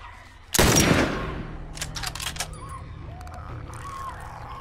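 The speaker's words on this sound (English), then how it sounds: "Gotta shoot the clickers" A loud burst of gunfire in The Last of Us erupts suddenly and rings out, followed by a series of softer rapid shots and faint creature clicks as clickers are shot.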